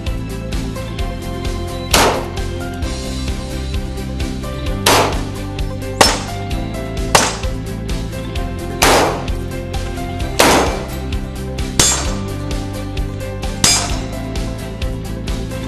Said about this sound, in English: So there's five shots here on the 5/16 plate, and not a single penetration with armor piercing rounds